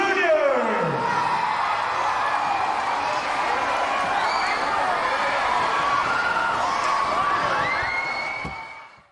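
A large crowd at a school sportsfest cheers, shouts and whoops for the junior class, with children's voices and scattered applause forming a loud, continuous roar that fades out at the end.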